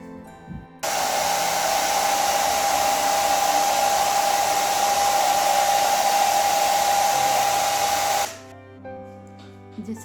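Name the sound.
hair dryer drying varnish on pressed flower lamp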